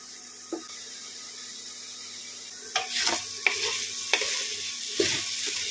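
Onion and tomato fry on high heat in a pan while being stirred, a steady sizzle broken by several scraping stir strokes close by, with no talking.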